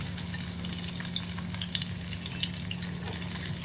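Sabudana vada frying in oil make a continuous bubbling sizzle with fine crackling pops, steady and close with no voices.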